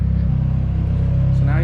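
A Nissan 240SX engine warming up, idling with a steady, close, throbbing low rumble and even harmonic drone throughout, a voice faintly audible near the end.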